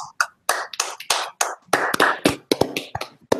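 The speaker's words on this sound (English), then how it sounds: "So guys, round of applause on that one." A small group of podcast hosts claps in applause, a brisk run of close, sharp hand claps with uneven rhythm and no talking.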